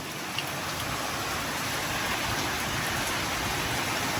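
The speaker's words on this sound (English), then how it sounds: "it's the rain's coming from this direction" Heavy rain driven sideways by wind during a tornado-warned thunderstorm, with roadside water flooded up to car tires; a dense, loud, continuous roar of rain with no voices.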